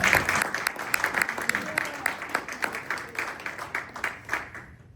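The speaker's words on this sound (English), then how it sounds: "Give a big round of applause for Maria." An audience at a fintech startup showcase applauds with dense, rapid clapping that starts strong and gradually thins out over a few seconds.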